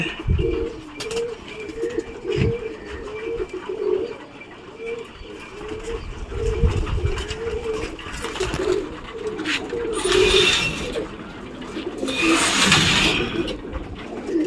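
Pigeons coo steadily in a pigeon training loft as birds are let into a cage, a continuous cluster of soft, rolling calls with brief louder bursts of wingbeats or movement; a voice talks intermittently over them.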